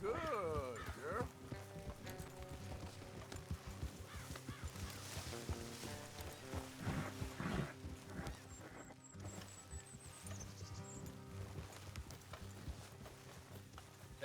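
In Red Dead Redemption 2, horses clip-clop steadily along a road at a walk, their hooves tapping in a continuous rhythm under ongoing character dialogue, with ambient game sounds around them.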